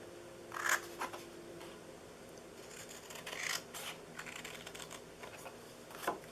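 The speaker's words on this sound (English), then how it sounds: "We're going to cut off this section here." Scissors snip through a paper candy box template in several short, crisp, close cuts spaced a second or two apart over a quiet background.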